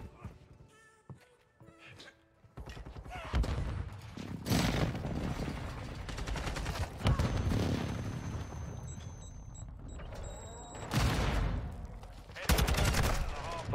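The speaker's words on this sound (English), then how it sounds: "Enemy precision airstrike." An enemy precision airstrike in Call of Duty MW2 brings bursts of gunfire and heavy blasts in uneven clusters, loud and chaotic, with game voice callouts mixed in.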